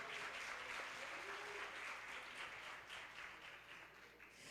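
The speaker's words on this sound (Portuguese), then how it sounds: "Pode bater palmas para eles, que eles merecem." An audience at an innovation event applauds the presenters, steady crowd clapping heard faint and somewhat distant, fading slightly over a few seconds.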